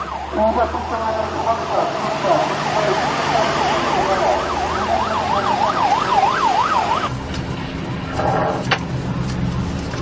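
A fire engine siren from Yangcheon fire station wails in a rising and falling pattern, loud and near, over road traffic noise before cutting off. Another sound with tonal bursts follows at the end.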